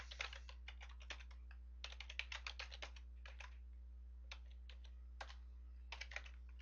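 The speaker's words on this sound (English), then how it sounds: "If I can type." Quiet keystrokes on a computer keyboard while a web script method is written, coming in short irregular bursts of clicks with pauses between, close and faint over a steady low hum.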